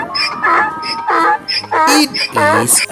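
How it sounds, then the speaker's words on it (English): A donkey brays in loud, wheezing see-saw bursts close by, the repeated honks rising and falling, after a short spoken phrase at the start. "donkey."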